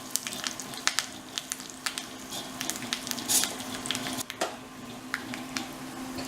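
Dried red chilies, curry leaves and asafoetida sizzle in hot ghee with popped mustard seeds, a steady close frying hiss broken by scattered crackles and spits. No one speaks.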